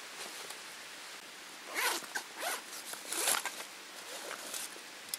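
Someone opens the zipper of a small bag in short, quiet, rasping pulls, several quick bursts of zipping at close range with brief pauses between them and no talk.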